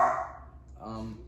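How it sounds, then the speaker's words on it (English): Dogs bark indoors in a room, two short bark bursts at moderate distance, fairly faint, with no speech over them. "Sorry about my dogs."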